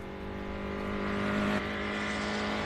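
A classic GT-prepared race car with a big V8 roars off the line at the Simola hillclimb, a loud, sustained, deep engine note that holds steady and close for the whole stretch, with no talking.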